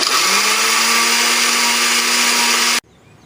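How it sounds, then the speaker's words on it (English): Small blender grinding eggshells into powder, a loud continuous high whirring roar with a steady motor whine that cuts off abruptly near the end, leaving quiet. "Little blender did the job."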